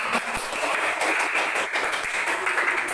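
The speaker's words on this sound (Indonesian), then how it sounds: "Tepuk tangan untuk mereka berdua." Schoolchildren in a classroom clap for two classmates, a loose, uneven burst of hand claps with a few sharper individual slaps standing out, filling the room without any talking.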